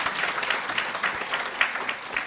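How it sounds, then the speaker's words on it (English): Audience applause at the Absa Inspire Me conference, a steady wash of many hands clapping together for Absa colleagues, filling the whole stretch without a break. "A big clap to our ABSA colleagues."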